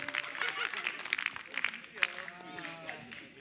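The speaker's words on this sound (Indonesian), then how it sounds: "Beri tepuk tangan sekali lagi untuk Amir" A live comedy show audience applauds and cheers for a stand-up comedian, steady crowd clapping with scattered whoops, while a voice talks over it.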